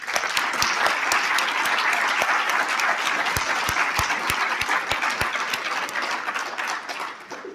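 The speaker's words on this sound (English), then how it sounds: "So let's give that panel one more round of applause." A conference audience gives a panel on conservation partnerships a round of applause, dense steady clapping with a few loud close claps standing out, fading slightly at the end.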